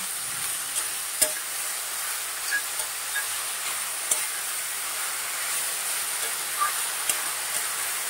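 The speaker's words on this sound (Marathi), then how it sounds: "गॅस आपण मध्यम करूया, हे मिक्स करून घेऊया" Chopped spinach and potato get stirred in a pan over a medium gas flame, a soft steady sizzle and hiss with occasional light scrapes and taps of the spoon, close and fairly quiet.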